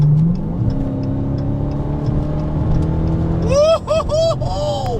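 Dodge SRT car accelerating hard, a loud close engine note climbing through the revs with a gear change, then a fast wavering whine overlaid with excited voices.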